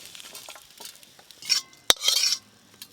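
Lightly fried spice paste for a village-style prawn and small eggplant curry is poured and scraped from a pan, soft close scraping with a single sharp metallic clink and a brief rustle after.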